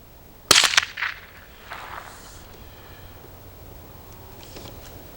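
One sharp, loud crack from a Mossberg & Sons model 42M rifle fired outdoors in snow, followed by brief echoing reflections and a softer click, then quiet ambient outdoor air.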